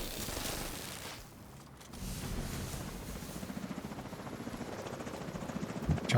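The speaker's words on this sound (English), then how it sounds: "Chopper" A helicopter in a shooter game thrums with a pulsing rotor chop that grows steadier and louder, mixed with gunfire-like bursts and clatter, with no voices.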